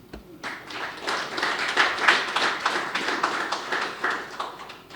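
A burst of applause from a crowd: dense, sustained clapping that swells and holds for several seconds, moderately loud and close.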